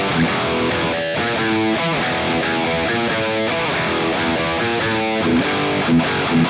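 Heavily distorted electric guitar played through a Mooer 005 micro preamp loaded with a third-party Net IR cab impulse response, dense chugging riff with rhythmic palm-muted chords, loud and continuous with no voices.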